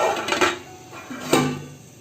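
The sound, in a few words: covering the cooking pot with a lid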